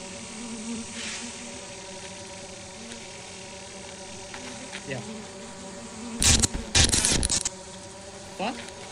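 Buzzing bees swarming from a bee nest in the co-op game Lethal Company, a steady droning hum throughout, with sharp bursts of clatter near the end and players talking intermittently.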